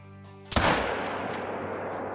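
A single loud .45-70 lever-action hunting rifle shot in the Call of the Wild hunting game, a sharp crack at about half a second followed by a long rolling echo that fades slowly across the open landscape.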